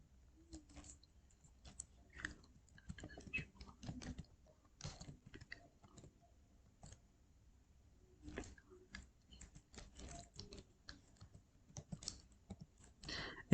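Keys on a computer keyboard are typed in quiet, irregular bursts of close clicks while a ledger name is entered in Tally Prime accounting software, with short pauses between words.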